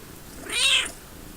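A single cat meow, rising then falling, clear and fairly close, standing alone against faint background hiss.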